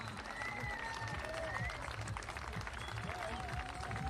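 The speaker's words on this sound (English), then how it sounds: "A big round of applause for them," A crowd applauds slalom winners at the IWWF U17 World Water Ski Championships, with steady, dense clapping sustained throughout while voices carry over it.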